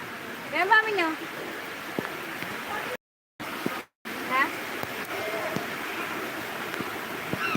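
A steady rush of rain hisses throughout, broken by two short dropouts, with a brief chirping bird call early on as pigeons scatter.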